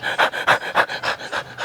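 Heavy, rhythmic panting in the manner of a dog, about eight quick breaths in a steady pulse, close and loud, with no other sound around it; likely a person imitating a panting dog.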